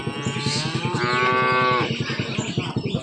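A cow moos loudly and close by, one long drawn-out bellow in the middle, right after giving birth to a calf; no talking.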